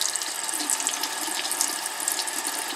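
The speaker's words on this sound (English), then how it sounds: "rinse the brush until the water turns clean" A paint brush is rinsed under a running tap, giving a steady, close hiss and splash of water that continues without a break and with no talking.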